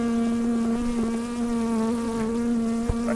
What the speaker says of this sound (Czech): Ty včely se do toho mikrofonu úplně zakusujou.